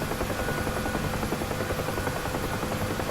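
A Huey helicopter in the DCS flight simulator idles with its engine throttled down, giving a steady, dense turbine whine and rotor drone that runs loud and unbroken throughout.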